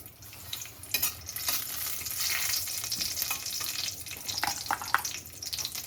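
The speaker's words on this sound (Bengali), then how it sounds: "জিরাটা একটু ভেজে নিচ্ছি।" Cumin seeds frying in hot oil with a steady close sizzle and crackle, brief louder pops and spits scattered through, no talking.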